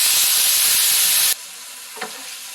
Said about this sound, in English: Next, we'll add our ground beef and cook this with the onions.